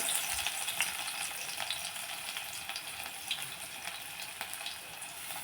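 Steady sizzling and crackling of garlic, mustard seeds, cumin and curry leaves dropped into hot oil for tempering dal, soft and continuous with small pops, no talking.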